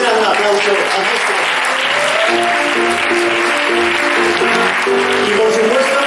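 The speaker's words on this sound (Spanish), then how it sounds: "un aplauso para María" Sustained, loud audience applause at a youth and adult theatre workshop performance in a municipal library, continuous throughout with voices and a tonal line running beneath the clapping.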